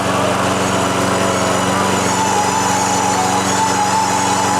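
A lawn mower engine runs loudly and steadily at a spring-opening event in Türi, Estonia, giving a continuous close drone with no pauses.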